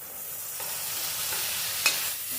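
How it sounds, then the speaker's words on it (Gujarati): Chopped onion and tomato fry in hot oil for a vaghar tempering, a steady close sizzle with a single brief utensil clink as the pan is stirred. "ડુંગળી ટામેટાનો સરસ વઘાર કરી લેવાનો, અને ત્યાર પછી ઢાંકણ ઢાંકી અને આપણે ડુંગળી ટામેટાને તળવા દઈએ"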